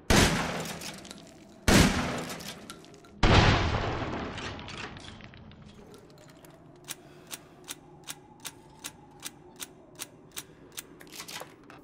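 Gunfire in Resident Evil Village: three loud, close shotgun blasts with ringing tails, followed by a quick, evenly spaced series of sharp clicks as shells are loaded one after another, with no talk.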